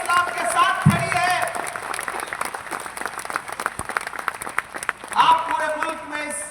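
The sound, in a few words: audience applause at a speech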